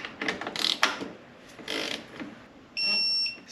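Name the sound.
ratchet tightening BMW N55 valve cover bolts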